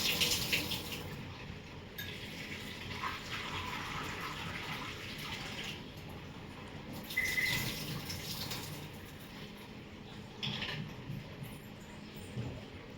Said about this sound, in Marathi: चला आता हे ना स्वच्छ धुवून घेते 2 पाण्यानं.